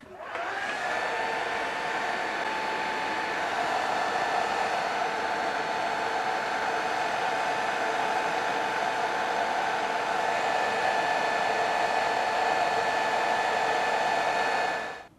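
Hair dryer drying weathering dust on a model diorama, a loud, steady whirring blow with a constant whine running unbroken for about fifteen seconds before switching off at the end.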